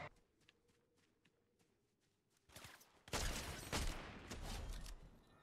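Quiet footsteps and shuffling give way to a burst of loud, rapid game gunfire with sharp repeated shots and booms.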